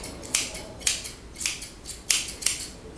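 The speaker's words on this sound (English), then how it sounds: "I take my longer shears, and from the line that I've made in the ear there from trimming it, I'll follow around the jawline" Long grooming shears trim around a dog's face and jawline, giving about seven crisp, close snips in a steady rhythm, each a bright metallic swish, with no talking.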